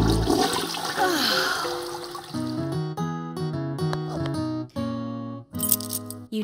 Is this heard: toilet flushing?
yes